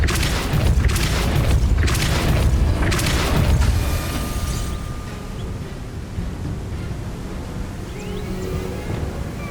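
Repulsor spell cast in Hogwarts Legacy, heard as several heavy booming blasts in the first four seconds that fade into a low, steady rumble.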